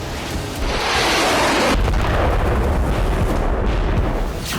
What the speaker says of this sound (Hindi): रूसी जेट से इस बम को गिराने के बाद जोरदार धमाका हुआ।